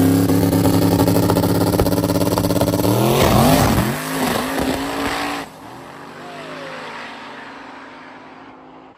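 Small-tire drag race cars blast down an eighth-mile strip, a loud, dense engine roar that surges and fades as they pull away, with echoing crowd ambience trailing behind.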